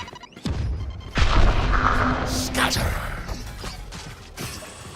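Grenade explosion in the Valorant video game, a sharp boom followed by crashing, mechanical rattles and whooshing game effects, loud and close.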